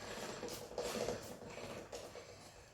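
A motorcycle rear wheel and drive chain are turned by hand, giving faint, irregular clicking and ratcheting mechanical noise in a few short bursts.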